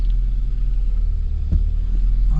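A car crosses a steep speed hump on a road trip in Wayanad, with a steady, close engine rumble and a dull thump as the wheels go over the bump.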